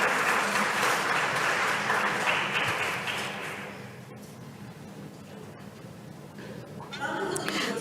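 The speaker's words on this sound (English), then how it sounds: "A round of applause, yes" Applause from the audience at a seminar on care as the fourth pillar of social welfare: a broad wash of clapping that holds steady for a few seconds, then thins and fades out, with a faint murmur of voices beneath.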